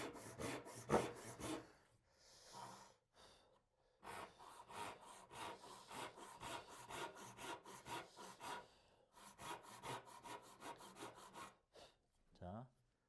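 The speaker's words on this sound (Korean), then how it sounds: "톱질을 해보도록 하겠습니다" A hand saw cuts through wood along a marked line for a mitred three-way furniture joint, rasping in quick regular back-and-forth strokes with short pauses between bursts, close up.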